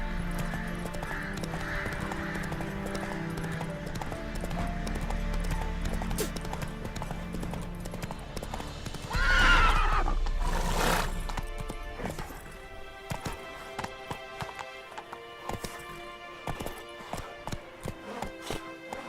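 Roach the horse in The Witcher 3 video game galloping with rhythmic hoofbeats, then a loud, sharp neigh midway, followed by quieter scattered hoof clatter as the pace slows.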